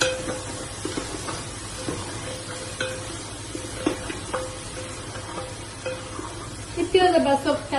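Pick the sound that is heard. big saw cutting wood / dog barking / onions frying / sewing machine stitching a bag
onions frying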